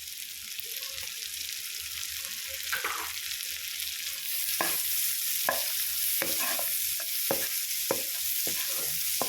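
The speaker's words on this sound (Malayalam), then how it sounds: "മീഡിയം സൈസ് ഒരു സവാള എടുത്തിട്ടുണ്ട്. അത് ചെറുതായിട്ടൊന്ന് അരിഞ്ഞ് വെച്ചത് ചേർത്ത് കൊടുക്കാം." A medium onion, chopped small, sizzles steadily in a pan as the base for white sauce pasta. Sharp scrapes of a spoon stirring it break in repeatedly throughout, close up and clear.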